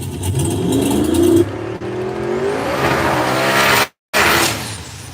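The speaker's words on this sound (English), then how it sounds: "Grady Underwood, turbocharged Chevy Corvette, going against" Turbocharged Chevy Corvette in a no-prep drag race, engine roaring loud and close with rising revs and tire noise, cut by a brief gap of silence before the roar resumes.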